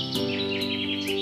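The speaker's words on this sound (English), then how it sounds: "I could hear the birds chirping and going about their business," Birds chirp outdoors at a birding spot in Maharashtra, India: bright, fairly close calls repeat in quick sweeping notes over a steady background drone.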